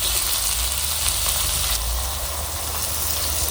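Water poured into a pan of small fish frying in oil with spices sets off a loud, steady hiss and crackling sizzle that continues evenly throughout, with no talk.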